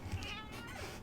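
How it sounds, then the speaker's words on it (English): A pet cat gives a short, strained meow close by, a brief rough cry with no talking over it. "That is my cat who is currently fighting me."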